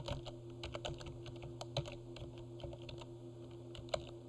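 Quiet, steady keystrokes on a computer keyboard while text is entered into an Excel spreadsheet cell, an irregular patter of clicks with one sharper tap near the end, heard alone over a faint background hum.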